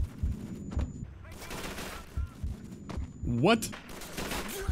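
Gunfire in Call of Duty 3, several sharp bursts and shots spread across the moment, mixed with a voice and game effects.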